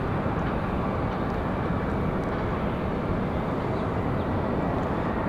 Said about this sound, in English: here comes Lufthansa. Enjoy the departure.